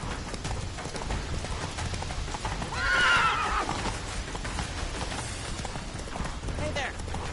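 Roach the horse whinnies once loudly in a video game, a rising neigh over rapid galloping hoofbeats that continue throughout, with in-game voices and background sound underneath.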